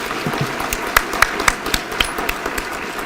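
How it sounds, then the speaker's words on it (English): Listeners at a mental health initiative lunch keynote clap for the speakers, sharp individual claps ringing out fairly close and loud over a soft crowd murmur. "Can we get another round of applause for everyone?"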